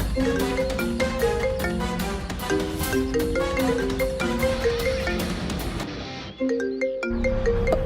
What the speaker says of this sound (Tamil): அஸ்வினி ஃபோன் பண்ணிட்டு இருக்கா